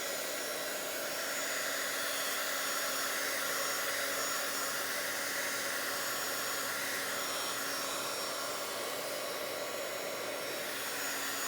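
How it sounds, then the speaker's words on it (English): A heat tool blows a steady, even whooshing hum for the whole stretch, drying ink on a journal page up close. "Let me grab my heating tool. I'm gonna dry this real quick so it doesn't smear."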